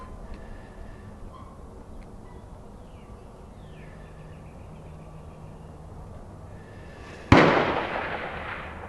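A single loud, sharp blast from a Ruger .44 Magnum rings out late in the clip and echoes away outdoors after a long stretch of quiet ambient background.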